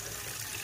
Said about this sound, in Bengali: এবার সামান্য পরিমাণ জল দেব।